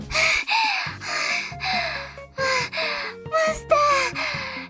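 An android character in a visual novel game pants in a run of short, breathy gasps, loud and close, set over a low synthesized music bed.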